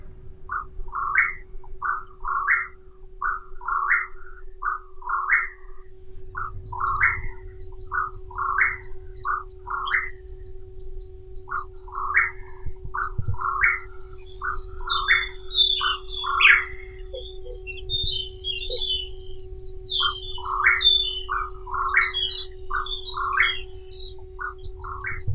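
Birds in a monarch butterfly reserve in Mexico sing steadily: repeated short chirping phrases close by, with a high continuous trill joining after a few seconds and a faint low hum underneath, no voices.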